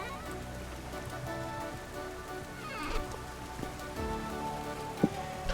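Steady rain falls in the Vintage Story game, a constant hiss with scattered drop patters and faint ticks, playing alone without talk.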